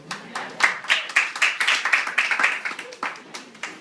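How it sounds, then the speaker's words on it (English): An audience claps at a stand-up comedy show, a scattered burst of hand claps that swells and then thins out over a few seconds. "Thank you to people that are clapping."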